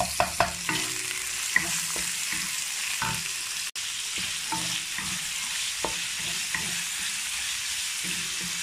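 Pork sautéing in a pan for a Chinese-style cucumber and pork dish, a steady close sizzle with repeated scraping and clacking of a spatula stirring the meat.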